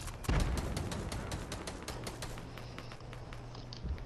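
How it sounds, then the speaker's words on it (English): Drum gun firing in Fortnite, a long stream of quick rattling shots at a steady rhythm, moderately loud with a heavier thump near the start and end. "I need to get some damage with this drum gun first."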